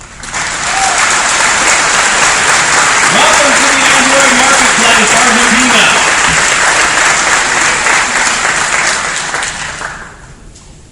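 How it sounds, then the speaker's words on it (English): Developer conference audience applauds at Google Developer Day 2011; sustained loud clapping swells and holds for about ten seconds, with a presenter speaking over it, then tapers off. "So give yourselves a round of applause"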